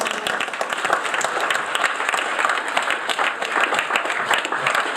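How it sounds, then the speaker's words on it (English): Wedding guests giving a round of applause during a reception speech, a dense, steady burst of many hands clapping filling the room at close range for several seconds. "A round of applause for Janie."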